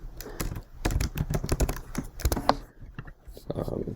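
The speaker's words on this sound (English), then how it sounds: "Type things in" Rapid typing on a computer keyboard sounds up close, a steady patter of crisp key clicks with a few heavier strokes and brief pauses.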